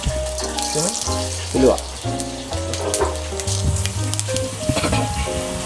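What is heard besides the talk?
fennel and fenugreek seeds sizzling in hot coconut oil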